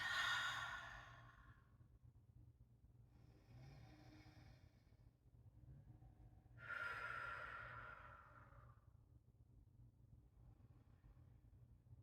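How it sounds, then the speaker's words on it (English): Slow, deep breaths during a gentle seated or standing yoga flow, several long audible exhales and inhales spaced apart, close and soft, with no talking. "I invite you to begin to notice your inhale and your exhale"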